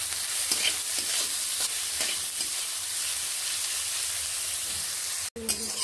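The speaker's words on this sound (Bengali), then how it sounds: "একটুখানি নুন দিয়ে পেঁয়াজগুলোকে ভেজে দেব।" Onions fry with a pinch of salt for a Bengali ghughni, giving a continuous close hiss and sizzle with faint scraping stirs, a brief dropout near the end, and no speech.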